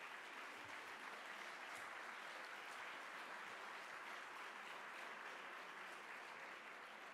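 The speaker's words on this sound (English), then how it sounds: "Give yourselves a big round of applause." A large gala audience at a chamber of commerce dinner claps steadily throughout, a dense, even wash of applause with no break and little else audible.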